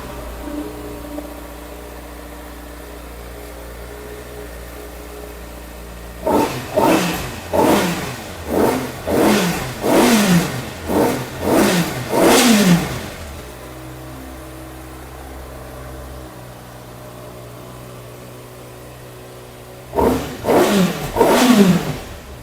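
A Kawasaki ZX6R superbike with about 800 km on it idles, then its engine is blipped through a quick series of sharp high revs, settles back to idle, and revs again briefly near the end, close and loud.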